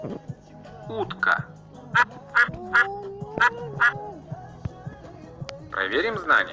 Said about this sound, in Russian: Утка.